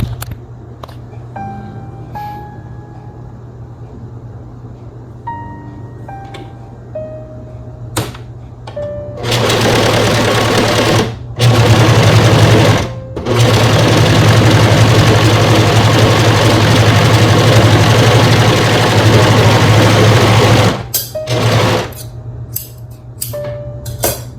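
Overlock sewing machine stitching stretch fabric, a loud continuous motor whir that runs for long stretches, broken by short pauses and quieter idle hum at the start.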